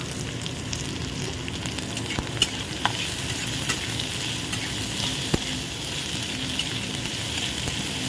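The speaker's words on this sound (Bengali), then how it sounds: "আমি এর মধ্যে দিয়ে দেবো পেঁয়াজ কুচনো।" Chopped onion fries in a pan with green chilli and garlic, giving a constant close sizzle with occasional sharp clicks as it is stirred.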